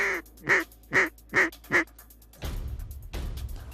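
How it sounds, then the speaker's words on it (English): Pair of mallard ducks quacking as they fly in over a Louisiana duck hunt: five loud, evenly spaced quacks close by, followed by rushing wind and rustling. "Got a pair of mallards coming in, Steve."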